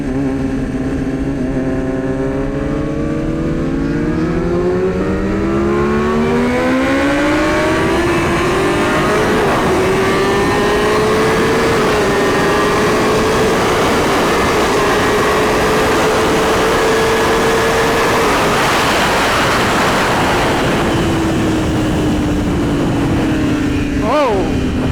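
A BMW M 1000 RR and a Kawasaki Ninja H2 racing on the street, loud high engines climbing through the gears in long rising sweeps, close and continuous, with a brief shift drop near the end.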